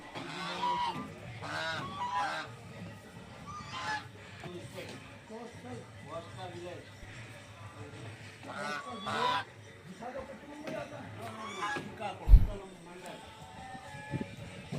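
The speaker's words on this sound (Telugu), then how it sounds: "ఇవి బాతులు," Ducks and geese honk and quack repeatedly at a temple cowshed in Ranasthalam, mixed with someone talking over the outdoor background.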